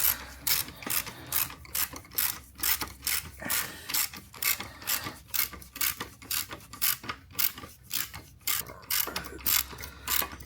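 A Craftsman ratchet wrench clicks in rapid bursts while working on a 1976 Kawasaki KE100 motorcycle, with about twenty short ratcheting strokes separated by brief pauses, close and crisp with no talking.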